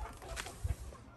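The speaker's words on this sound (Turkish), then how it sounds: "Tavuklar burada." Soft clucking from chickens, a few low short calls close by amid a quiet background.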